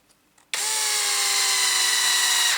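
A power drill or driver runs steadily while tightening parts of an RC car kit bulkhead, a loud continuous whine starting abruptly after a short quiet lead-in with faint handling noises.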